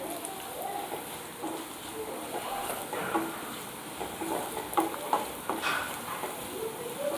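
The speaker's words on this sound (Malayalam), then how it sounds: "നല്ലൊരു ഗോൾഡൻ കളർ ഷെയ്ഡ് ആകുന്നത് വരെ വഴറ്റി കൊടുക്കണം" Ingredients sautéing in a pan until golden for a Kottayam-style fish curry with kudampuli, a soft steady sizzle with scraping stirs and light clinks, under a quiet voice.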